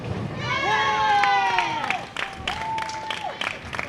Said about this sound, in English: what you hear there is the Koreans cheering for their teammate